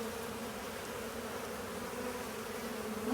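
Honeybees buzz steadily in a dense, close swarm at the hive entrance, workers carrying pollen on their legs in February, a continuous even drone with no talk.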